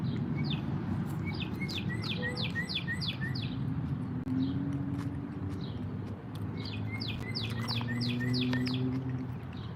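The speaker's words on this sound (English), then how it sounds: "That is a loud bird." A loud bird chirps in two bursts of rapid, bright repeated notes, close and prominent over a constant low indoor drone.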